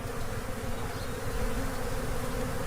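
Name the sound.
feral honeybees buzzing at hive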